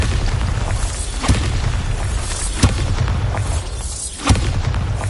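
Bombarda spell explosions from the video game Hogwarts Legacy: a dense, loud roar of blasts and rumble, with sharp booming hits punctuating it at intervals, and no talking over it.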